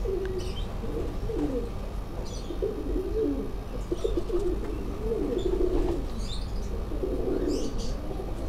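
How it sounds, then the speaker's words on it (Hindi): A Teddy breed pigeon coos repeatedly in soft, low, rolling phrases at close range, over a steady hiss of background noise with faint chirps from other birds on a rooftop. "ये टैडी ब्रीड का ये कबूतर"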